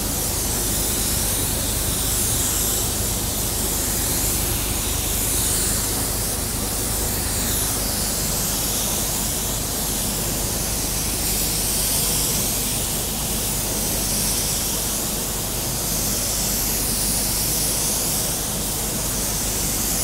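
An HVLP spray gun lays clearcoat onto a car door, giving a steady, loud hiss of atomized air that runs unbroken and alone with no talk.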